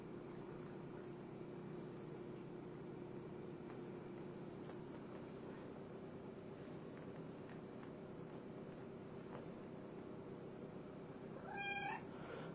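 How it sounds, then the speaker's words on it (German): A cat at a veterinary clinic gives a single short meow near the end, after a long stretch of quiet room hum with no talking. "Petra ist eine richtig liebe Katze, die sich mit zu allen hier auch anpasst."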